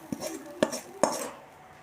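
A spoon knocks three times against a pot while fried tempering is mixed into raw mango rice, each clink sharp and close with a short ring and no voices.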